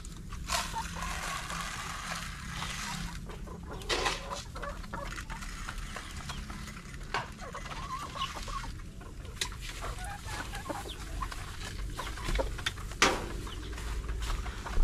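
Chickens cluck steadily as they eat layer feed, a busy close flock of overlapping clucks and soft calls over a constant farmyard hum, with occasional louder squawks.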